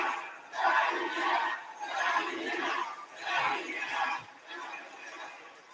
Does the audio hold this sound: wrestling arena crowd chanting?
yes